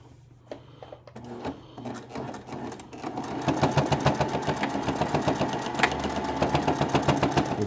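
A sewing machine stitches the short seams of a fabric tabard, starting with a few hesitant bursts and then running in a fast, even mechanical rattle, close and alone without speech.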